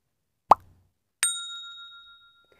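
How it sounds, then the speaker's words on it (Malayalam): Eggs dropped into a dry mixing bowl while preparing a pistachio cake batter: a single soft, wet plop, then a sharp ringing tap on the bowl that hangs and slowly fades, with no talking. "അതിലോട്ടേക്ക് നമുക്ക് നാല് മുട്ട ചേർത്ത് കൊടുക്കാം"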